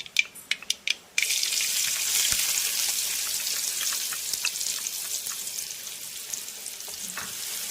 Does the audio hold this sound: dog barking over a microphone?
no